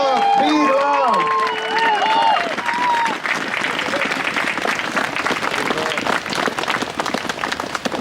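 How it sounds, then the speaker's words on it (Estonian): Crowd at a street demonstration in support of Raadio 2's evening programming bursts into sustained applause with some cheering, following a short shouted voice at the start and continuing with a lively, steady clatter. "palun teeme üks suur aplaus neile inimestele"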